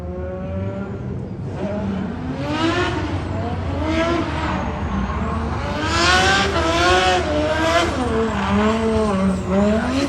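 A race car at Irwindale Speedway revs and shifts through its gears over about ten seconds, the engine note rising and falling loud and close with some tire noise.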